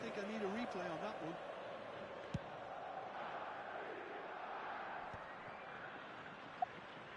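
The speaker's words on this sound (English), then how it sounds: "The crowd reaction tells you just how close that was." Stadium crowd in an eFootball match gives a steady, moderately loud roar that swells and holds for several seconds, with a brief voice early on and a couple of sharp clicks.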